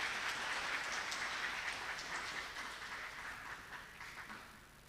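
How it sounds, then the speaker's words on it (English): Audience applause for an angklung ensemble at an international physical education and sport seminar, a dense steady wash of clapping that stays loud and slowly tapers off toward the end. "please give a big round of applause for Angklung"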